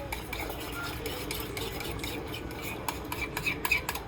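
Spoon stirring a ketchup-based sauce for Philly cheesesteaks in a small bowl, soft repeated scraping and clinking strokes, close and quiet, with a few sharper taps near the end.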